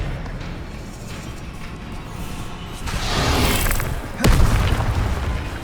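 Expelliarmus disarming spell cast in Hogwarts Legacy, a swelling magical whoosh that builds to a sharp burst and booming impact, loud and alone with no talk.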